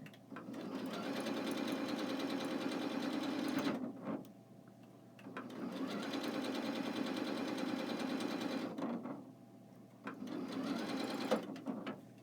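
A sewing machine stitching in three sustained runs, a fast mechanical whir with brief quiet pauses between bursts, close by.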